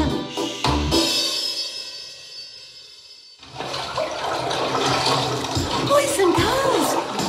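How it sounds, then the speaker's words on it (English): Water rushes and gurgles as if from a flush or tap, fading after a few seconds and then coming back amid other noise, with a voice briefly heard. "I heard some water"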